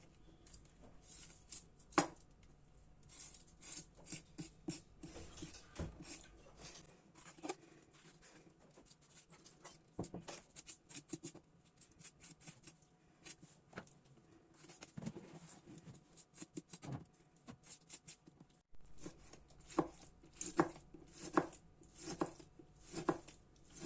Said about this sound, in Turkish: Biberlerimi de aynı şekilde doğrayacağım